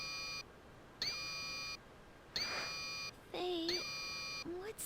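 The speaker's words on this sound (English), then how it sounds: "what's that sound? Alarm." An alarm in the video game Star Ocean: Till the End of Time sounds as a series of long electronic beep bursts with short silent gaps, some ending in sliding tones.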